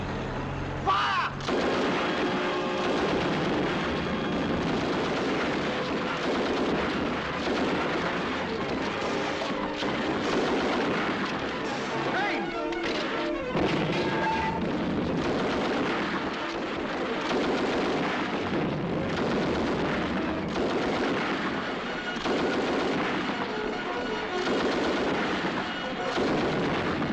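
Gunfire and artillery blasts from a 1944 Second World War film, a dense, loud barrage of shots and booming explosions that continues without pause, with a few shouted voices buried in the din.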